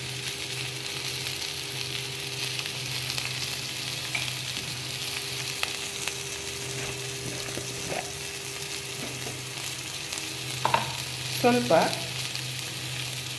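Cauliflower and potato fry in a pan with coriander powder and turmeric, a steady low sizzle running throughout, with a few clinking stirs near the end and a brief quiet voice.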